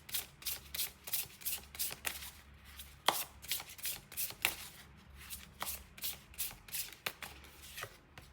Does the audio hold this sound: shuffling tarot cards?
yes